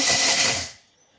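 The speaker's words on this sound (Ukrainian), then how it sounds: "Перемелюємо наш секретний інгредієнт в блендері" A kitchen blender grinds a secret dry ingredient into a fine powder for cutlet mince, a loud, dense whirring roar that runs steadily for under a second, then cuts off abruptly into near silence.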